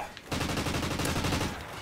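Rapid automatic fire from an MTAR submachine gun in Call of Duty: Ghosts, a quick stream of close, loud shots after a short quiet lead-in, lasting under two seconds.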